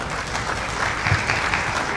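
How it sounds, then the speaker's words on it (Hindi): Sustained applause from a theatre audience after a solo dramatic stage performance, a dense even wash of many hands clapping steadily for the full length with no voices over it. "बहुत सारी तालियां होनी चाहिए"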